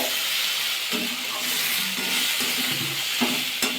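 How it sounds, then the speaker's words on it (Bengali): Bottle gourd vegetable with mung dal being sautéed in a pan, giving a steady close sizzle and hiss, with occasional stirring scrapes and clinks and no talk. "মুগ ডাল দিয়ে সবজিটা ভালো করে কষিয়ে নিয়েছি"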